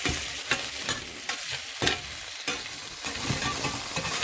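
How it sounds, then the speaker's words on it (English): Potatoes fry and caramelize in a pan that they stick to, giving a steady loud broadband sizzle with scraping stirs and a spatula flip, no voices. "so we got our taters carameling up nicely"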